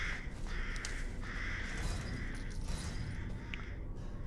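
Crows in the game Resident Evil Village give a series of harsh, repeated caws in short bursts over a low rumbling ambient background, with no talking.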